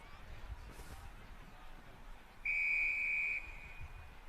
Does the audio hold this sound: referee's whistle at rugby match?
yes